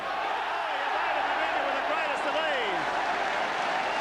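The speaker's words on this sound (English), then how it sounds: "Crowd applaud that. They loved it." A large crowd at a 1986 St Helens versus Australia rugby league match applauds with steady, dense clapping and cheering, a continuous wash of noise heard at a distance beneath a commentator's voice.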